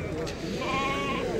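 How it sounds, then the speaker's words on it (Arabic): Sheep bleating at a busy livestock market, a wavering bleat heard close over steady crowd noise while someone talks. "تبارك الله خروف زين الله"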